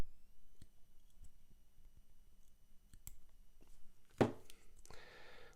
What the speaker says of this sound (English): So let's take some side cutters. I'm just going to cut it off.